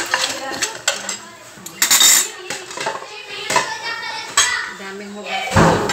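Plates and cutlery being washed after a party, with repeated clinks and clatters of dishes and silverware under ongoing conversational speech nearby.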